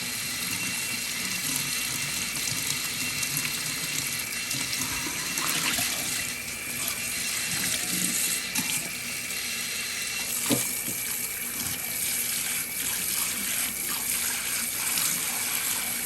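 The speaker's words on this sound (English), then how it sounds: "Just rinse it out really well. Rub it so that all of the salt comes off." Tap water runs steadily while salt cod is rinsed and rubbed in the sink, a continuous splashing gush with occasional clinks and handling noises.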